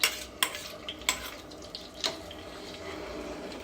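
A homemade hair-growth mixture being stirred in a bowl, with a few sharp scraping clicks near the start and then a softer, steady swishing and tapping, close and fairly quiet, with no talk.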